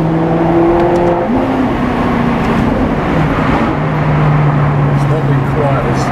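A Maserati GranTurismo MC Stradale engine runs loud and close with a steady, fluctuating drone and shifting pitch, while people talk over it throughout.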